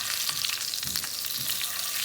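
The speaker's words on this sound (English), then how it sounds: "flank of lamb. Get close up onto that now, Shiny, while we seal that." A flank of goat meat sears in a hot pan, its fat crisping, with a continuous dense sizzle and crackle that stays close and steady throughout.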